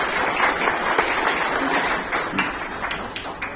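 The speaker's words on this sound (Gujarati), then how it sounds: "જોરદાર તાળી પાડી અને સાહેબ માટે પાડી દે" Audience applause for a guest at a cooperative society function in Bagasara, a steady broadband wash of clapping lasting the whole stretch, fairly close and dense with no clear break.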